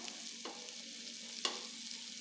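Egg and eggplant fry gently over a low flame, a quiet steady sizzle broken by two brief scraping presses of a spatula, with no voices.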